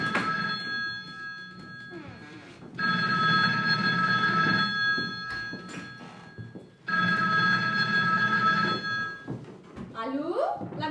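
An old-fashioned telephone bell rings close and loud in two long bursts separated by a pause, followed by a voice answering at the end.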